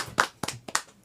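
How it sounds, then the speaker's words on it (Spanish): At a church gathering, an audience claps to welcome a guest: a handful of sparse, uneven claps, near and fairly crisp, with no voices over them. "vamos a recibirla con un aplauso"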